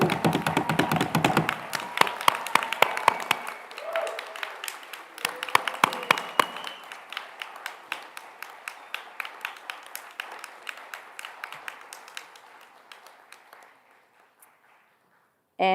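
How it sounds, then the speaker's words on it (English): Loud applause and cheering from a crowd at a community college dental program pinning ceremony, with dense clapping that thins into scattered claps and fades out toward the end. "How about we give one especially loud round of applause."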